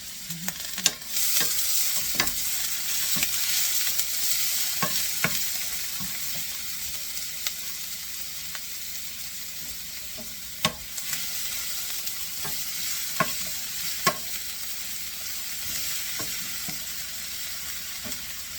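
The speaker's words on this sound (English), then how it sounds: "And stir it around." A spoon scrapes and stirs a sizzling sloppy joe mixture of meat and sauce just after baking soda goes in, with a steady frying hiss and irregular clicks and scrapes from the utensil against the pan.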